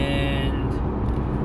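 An Audi car is being driven, its engine and road rumble holding steady and fairly loud from inside the cabin, with a faint toot-like tone fading early.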